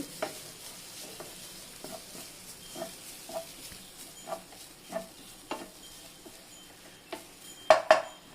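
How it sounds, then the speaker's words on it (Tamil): Grated coconut is dry-roasted in a pan for poha laddu, with soft, faint scraping and stirring taps at an unhurried, irregular pace and a low sizzle under them. Two sharper clinks come near the end. No one talks. "தேங்காவை போட்டு வறுத்துக்கலாம்"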